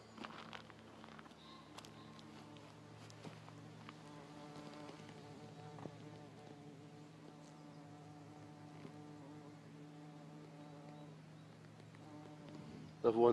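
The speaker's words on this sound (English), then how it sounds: "See the bees on the floor?" Steady insect buzzing hums throughout, a low continuous drone like bees close by, with faint murmuring in the background.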